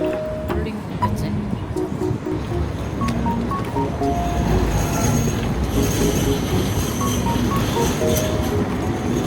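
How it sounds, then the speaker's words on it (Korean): A tram rumbles past on a Sydney street with wheels squealing on the rails, loud and close, amid busy street noise and voices. "트램 또 지나가."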